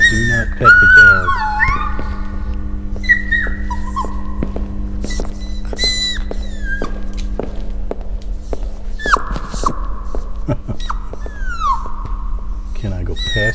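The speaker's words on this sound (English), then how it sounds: "there's a big dog there." A big dog in the Midnight Monitor Aldercourt video game whimpers in a series of high, falling whines, some short and some drawn out, over a steady low hum with occasional thuds.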